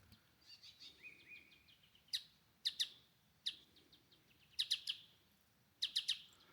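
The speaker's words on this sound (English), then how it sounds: "We're wondering what this bird is. We call it the Star Wars bird." Repeated bird calls from an unidentified species in the Noosa Everglades, nicknamed the Star Wars bird: bursts of three or four bright, descending electronic-sounding notes at irregular intervals, with fainter chirps between them, against quiet outdoor background.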